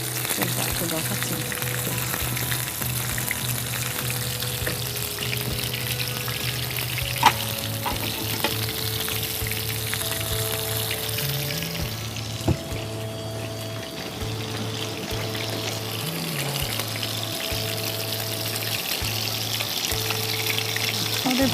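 Breaded prawns coated in crumbs fry in hot oil, a steady dense sizzle running throughout with occasional stirring clinks, while a faint tonal hum sits underneath.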